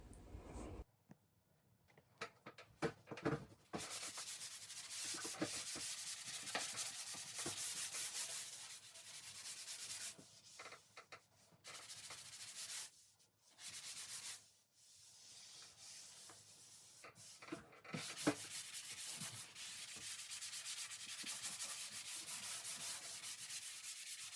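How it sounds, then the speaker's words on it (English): Sanding on a drywall tape joint makes a soft, continuous rasping scrape in repeated strokes, with short pauses between passes, quiet and close. "Now I'm going to sand the top"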